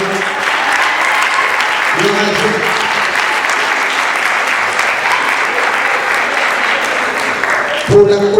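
An audience claps loudly and continuously at a book dedication ceremony, a thick, sustained round of applause, with a voice briefly audible at the start and again near the end.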